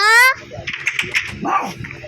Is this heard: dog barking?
yes